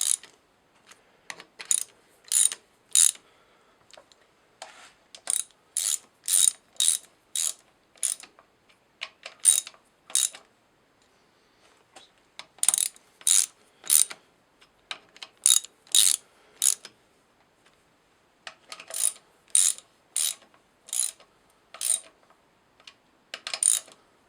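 A ratchet turned by hand while compressing 4G63 valve springs, sharp clicking bursts in short repeated groups with pauses between, close and clear in a quiet space.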